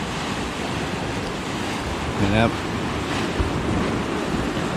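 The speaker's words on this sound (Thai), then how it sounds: "น้ำทะเลก็ ขึ้นแรงพอสมควรนะครับ" Rough sea waves surge onto Surin Beach in Phuket on a rainy, windy day, making a loud, continuous broadband roar with wind buffeting the microphone; someone speaks briefly over it.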